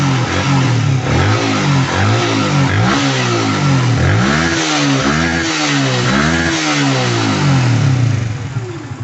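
A motorcycle engine, opened up during a repair check, revs repeatedly to high RPM in rising and falling surges, loud and close, before the throttle eases near the end.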